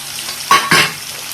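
Seasoning frying in a pan for ridge gourd tomato chutney: two short, close sizzling bursts as ingredients are stirred in hot oil, then a low, steady crackle.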